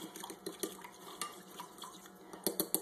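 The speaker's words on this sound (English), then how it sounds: "I'm just going to kind of stir that around." A spoon stirring garlic through raw corn salad in a bowl, quiet irregular clinks and scrapes of metal against dish, with a quick cluster of louder taps at the end.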